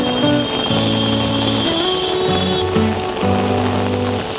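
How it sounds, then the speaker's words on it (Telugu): Heavy rain pours down in Surat, a dense steady patter that stays in the background beneath a song playing over it. "చాలా వర్షం ఉన్నది సూరత్ లో."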